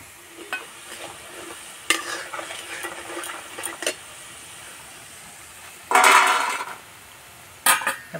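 Potatoes and peanuts fry crisply in a pan, a soft sizzle broken by scraping, stirring clatters and a louder rattling burst as the mix is tossed, with no talking.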